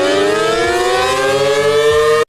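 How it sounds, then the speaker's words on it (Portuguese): A riot warning siren wails loud and sustained, its tone slowly rising in pitch, before cutting off abruptly at the end. "Que sirene doida que é essa aqui?"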